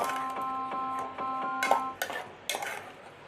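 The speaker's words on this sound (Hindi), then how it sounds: "अब मैं इसके अंदर ये अदरक लहसुन का पेस्ट ऐड कर रही हूँ। इसको भी अच्छे से मिक्स कर लेंगे।" A spoon stirring ginger-garlic paste into minced meat and onions in a pan for keema samosas, with a series of close metallic clinks and scrapes, some ringing briefly, under quiet kitchen background.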